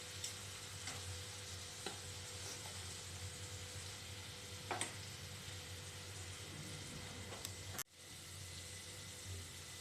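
Spice masala for an egg and potato curry fries in oil with a little water, giving a soft, steady sizzle with occasional faint stirring clicks and a brief dropout near the end.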